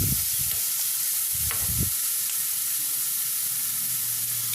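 Turmeric stirred into food frying in a pan, with a few soft scraping stirs near the start over a steady, bright sizzle and hiss that carries on alone.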